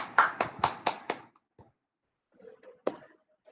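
An audience at a college freshers' finale event claps in a brief burst of about five sharp, loud claps, followed by a near-silent pause and a few scattered faint taps.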